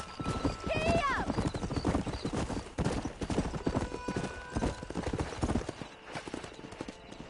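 Hooves clip-clop at a gallop in the Red Dead Redemption western video game, a continuous close, rhythmic pounding with a horse whinnying early on and game dialogue over it.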